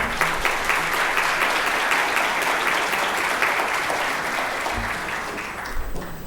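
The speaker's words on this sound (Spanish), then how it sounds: "a quien lo recibimos con cálidos aplausos." Warm applause from an audience greets a law faculty dean at an academic event, a dense steady clapping that holds for several seconds, then thins slightly toward the end.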